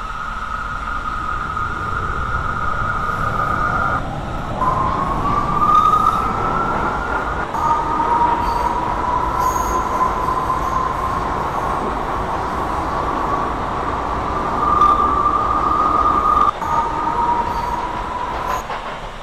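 A simulated New York City subway R179 A express train bound for Brooklyn hums along steadily, with a rising and falling tonal motor whine over a constant rumble and no speech.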